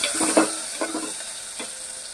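Onions fry in a pan after mustard seeds for an ajwain soup, a soft sizzle with a few stirring scrapes early on, easing into a quieter hiss.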